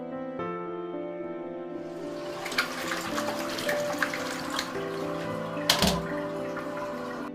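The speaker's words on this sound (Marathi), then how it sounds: "शेवटी एकदा फ्लश करा." A toilet flushes during bathroom cleaning: a continuous rushing, gurgling wash of water that runs for several seconds over a low steady hum, fairly close.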